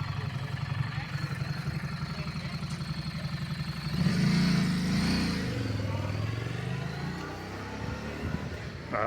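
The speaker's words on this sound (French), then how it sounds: "Il y a une moto qui s'est arrêtée" A stopped motorcycle idles close by on a roadside, its low engine drone swelling louder for a couple of seconds mid-clip over steady traffic and road noise, then settling back.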